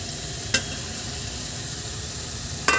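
Powdered spices frying in an onion, ginger, garlic and tomato masala, a steady close sizzle with two sharp scrapes of the spoon against the pan.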